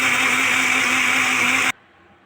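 A blender whirs at full speed grinding tomato, ginger, garlic and onion with a little water, a loud steady high-pitched grinding that cuts off abruptly, leaving near silence.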